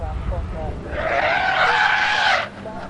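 Porsche race car locking a wheel at Cadwell Park, a loud tyre skid squealing for about a second and a half over engine noise before cutting off abruptly.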